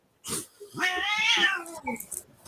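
A cat gives a drawn-out, rising and falling meow lasting about a second, close and fairly loud, followed by a shorter murmured call and some faint background noise.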